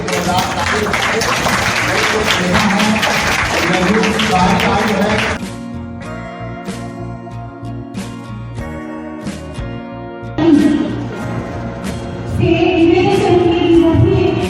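A crowd claps in applause at a school felicitation ceremony for teachers and girls' education awareness, loud and dense at first, then fading into quieter hall sounds and renewed clapping alongside talk.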